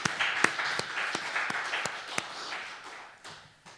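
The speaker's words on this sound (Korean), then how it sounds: "하나님께 영광의 박수 먼저 한번 돌려드립시다." A church congregation claps in unison during a Sunday worship service, a steady run of sharp, evenly spaced claps over a bed of scattered applause that gradually fades toward the end.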